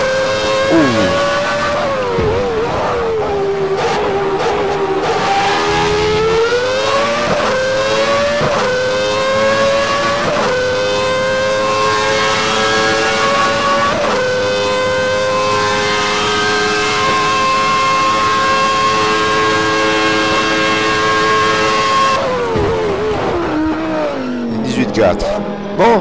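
A 1992 Ligier Formula 1 car engine in a racing video game, screaming loudly through continuous high revs, with pitch climbing and dropping sharply at each gear change and lift-off, close and steady throughout.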